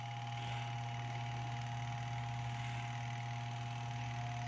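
A motor running steadily after its wiring was repaired, giving a constant hum with a strong tonal whine and an even drone, close and alone without talk.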